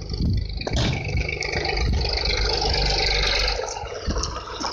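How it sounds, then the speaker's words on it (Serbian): An old Ferguson tractor engine runs outdoors in the countryside with a steady low rumble and some scattered knocks, loud and fairly close throughout. "Čujete, ovo je zvuk traktora."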